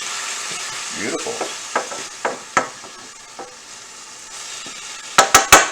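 Pork sizzles steadily in a hot frying pan, the bright hiss carrying scattered scrapes and knocks from stirring before a quick burst of three sharp utensil taps.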